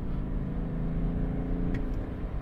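A BMW car accelerating hard, with a steady, loud engine drone and road roar inside the cabin, continuous with no speech.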